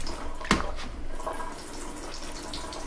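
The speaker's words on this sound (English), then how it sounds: "you fill it up with water, then you squeeze the mouthpiece and just put pressure on it" Water is forced through the hose and squeezed mouthpiece of a Camelbak hydration bladder during cleaning, giving a sharp splash at the start and then a softer running trickle up close.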